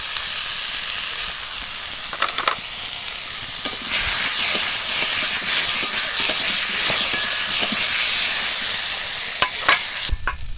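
Potato and brinjal pieces fry loudly in a pan with turmeric powder, a dense close sizzle that swells partway through, with occasional stirring clinks and a final clatter, no speech.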